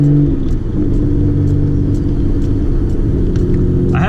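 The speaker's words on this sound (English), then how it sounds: "pretty much the Tomei exhaust is what you're going to hear this whole" A 600 hp R32 GTR with a Tomei full titanium exhaust drives along, a loud, steady low rumble heard from inside the car with slight throttle swells and faint ticking.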